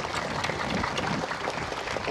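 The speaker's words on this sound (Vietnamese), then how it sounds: "Xin cộng đoàn trao đổi một tràng pháo tay để cảm ơn cha Đào Minh" A church congregation claps to thank a priest at a feast-day mass, a steady, moderately faint patter of many hands lasting a couple of seconds with no talk over it.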